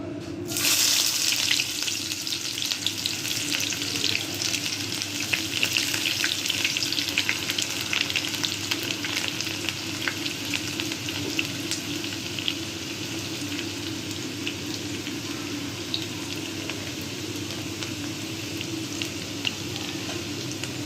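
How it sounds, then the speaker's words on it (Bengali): Chopped onion fries in hot oil in a wok, a steady, close hissing sizzle that holds evenly throughout with faint occasional stirring clicks. "পেঁয়াজটা একটু ভালো করে ভেজে নিব।"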